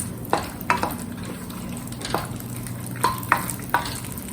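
Tamarind, split chana dal and coconut chutney ingredients sautéing in a pan, a constant low sizzle broken by several sharp spoon-on-pan scrapes and clinks.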